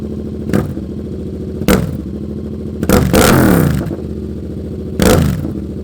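A 2023 Yamaha R7 fitted with a Toce Razor Tip exhaust starts up and idles with a steady rumble. It is punctuated by four sharp, loud throttle blips, the longest near the middle, all close to the microphone.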